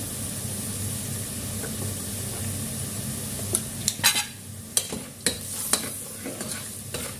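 Turmeric and chili powder get stirred into sizzling chicken curry in a pan. The steady frying hiss carries a run of sharp spoon clinks and scrapes against the pot toward the end.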